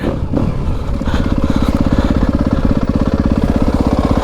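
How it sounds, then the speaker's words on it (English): A 2025 Yamaha YZ250FX four-stroke dirt bike engine runs steadily while riding on loose, steep terrain, a loud continuous buzzing drone with a rapid regular pulse and no voices. "Man, I'm not used to riding a four-stroke."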